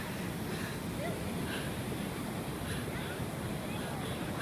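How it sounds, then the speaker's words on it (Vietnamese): Big ocean waves break at a cold beach where children surf in black wetsuits, a steady loud roar of surf and wind filling the whole stretch with faint voices mixed in. "Sóng lớn quá trời,"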